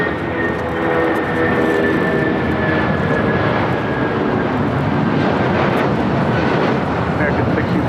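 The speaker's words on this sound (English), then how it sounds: "That was United Airlines 1488 taking off to Newark on the 757-200" A United Airlines Boeing 757-200 takes off from LAX bound for Newark, its engines making a loud, sustained roar with a whining tone that fades slowly, while tower radio chatter is heard through it.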